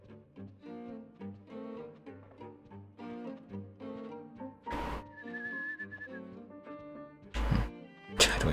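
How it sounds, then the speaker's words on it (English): A girl whistles a melodic tune in the PS2 survival horror game Rule of Rose, steady and fairly clear, with sharp game impact and crash effects cutting in near the end. "Do I hear the whistling girl again?"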